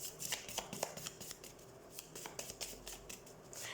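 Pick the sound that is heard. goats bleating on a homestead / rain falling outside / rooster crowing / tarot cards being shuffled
tarot cards being shuffled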